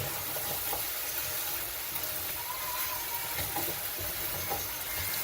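Chicken stew ingredients with tomato paste get stirred in a hot pot, a steady sizzle and wet scraping running continuously without voices.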